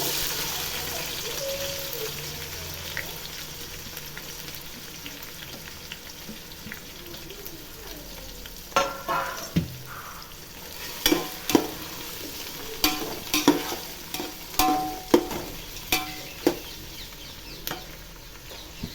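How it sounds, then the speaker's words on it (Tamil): Chopped onions sauté in a pan under a soft, steady sizzle, and a spoon stirs them with sharp metallic scrapes and knocks that come in quick bursts during the second half. "வெங்காயம் கொஞ்சம் வதங்கட்டும்."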